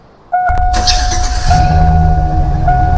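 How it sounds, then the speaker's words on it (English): A Chevy truck engine starting in a Roblox driving game: a sudden loud kick into a steady engine drone that deepens and strengthens partway through, with a thin steady tone riding above. "that's the startup of the Chevy"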